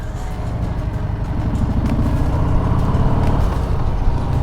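A motorcycle rides along a road toward Windsor Castle, the engine a steady loud low drone that swells slightly, with road and wind noise and no talking.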